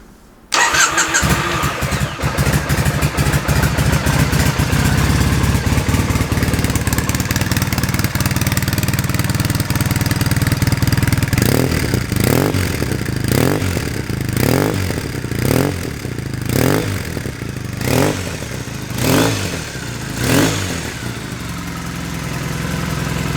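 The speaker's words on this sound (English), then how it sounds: "Just that real nice iconic British sound going on there, which is lovely" A 2006 Triumph Bonneville 790 twin cranks and fires, then settles into a loud, steady close idle, with a series of throttle blips rising and falling toward the end.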